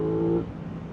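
An Aprilia RS660 sport motorcycle under way, its engine a steady loud drone with a strong low tone that eases off and fades after the first half second.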